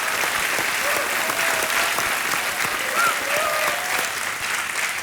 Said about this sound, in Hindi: और हम चाहते हैं कि यहाँ की जनता खूब जोर से ताली बजाए।